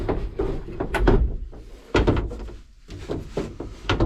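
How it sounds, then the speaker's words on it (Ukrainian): Folding shower door panels inside a Caravelair Sublim 510 caravan are pulled shut, giving a series of close plastic clacks, knocks and soft thuds in irregular bursts. "Все сходили в душ, згорнули ці дверцята."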